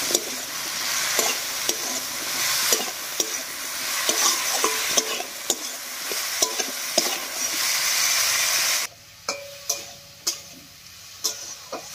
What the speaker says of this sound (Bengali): এই সবজিগুলো মোটামুটি ভাজা ভাজা হয়ে এসছে